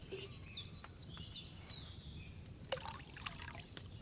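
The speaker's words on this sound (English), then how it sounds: "So, what did you pour in there? Wine, of course." Wine poured into a cauldron in the video game Kingdom Come: Deliverance II: a faint, thin trickling pour with scattered high chirping tones in the background and no voices.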